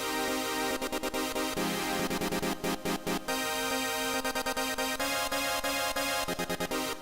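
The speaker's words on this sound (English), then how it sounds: "I've taken a super saw that sounds like this." A bright, dense supersaw synth chord for color bass, with sharp rhythmic transient chops and choppy gated stabs over a sustained low bass layer, loud and continuous with no talking.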